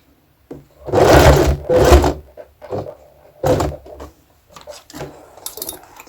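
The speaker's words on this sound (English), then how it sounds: "I'm sewing through over my pin, and what I do is just sewing, not bending or breaking." A sewing machine stitching through fabric and over pins in short loud bursts of rapid mechanical whirring, with brief quiet pauses between runs and light clicks of handling, close by and without talk.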